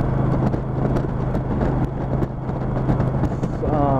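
A Kawasaki Nomad 1600 cruiser motorcycle rides at highway speed, its engine a steady low drone mixed with wind rush, with a rider talking over it.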